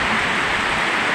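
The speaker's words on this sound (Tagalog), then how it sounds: "Grabe ulan." Heavy typhoon rain driven by strong wind in the Philippines, a dense, loud, unbroken hiss of downpour with no breaks or talk.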